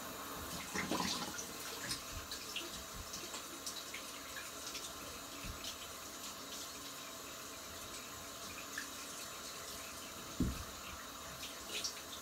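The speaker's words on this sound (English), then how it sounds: "I'm just going to rinse, I'll be back in a couple of seconds." Tap water runs steadily under a razor being rinsed at a sink during a straight-razor shave, a continuous close hiss with a few brief knocks and splashes.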